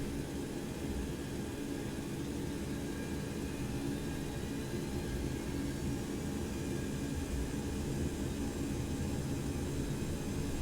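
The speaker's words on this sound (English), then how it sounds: "We are going to do a rolling takeoff here" A Boeing 727 in X-Plane 11 rolls for takeoff out of Ho Chi Minh City, its jet engines a constant, even roar with a broad steady hiss throughout.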